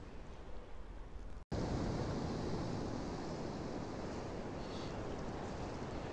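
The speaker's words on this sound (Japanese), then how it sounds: "波の音聞こえますか？" Steady roar of Sea of Japan winter surf pounding the shore at Amaharashi Coast, Himi, broadband and continuous with wind buffeting the microphone; a brief dropout early on, no voices.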